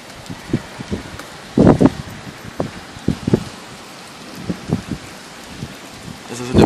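Soft steady rain hiss during a hailstorm in Leipzig, under scattered thumps and rustles, with brief louder bursts of nearby movement or gusts.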